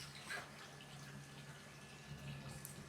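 Water running steadily from a hose or tap into the sides of a swimming pool, a faint continuous splash with a low hum underneath.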